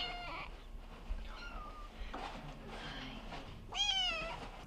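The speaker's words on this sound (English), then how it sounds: "This is my cat Jem, who was born around kitten season." A cat meows several times in close succession, the last call loudest and most drawn out, over a faint room hum with no talk.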